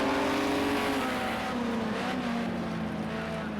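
Group 5 race cars in Project Cars 2 roar loudly and continuously as they slow from about 150 mph, with the engine note dropping under braking at Ruapuna Park. The sound is dense and close, with no speech.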